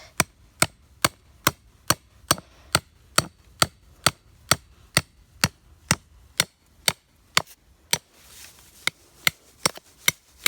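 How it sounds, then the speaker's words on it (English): A hammer beats a steel trap stake down into the ground for bobcat trapping, about twenty sharp, evenly spaced metallic blows ringing out close by with no talk. "get your hammer and beat it down"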